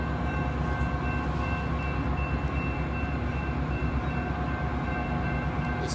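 An outbound Metra commuter train of six coaches rumbles steadily past the Elmhurst station, a continuous loud close-range roar of rolling wheels and diesel engine with no voices.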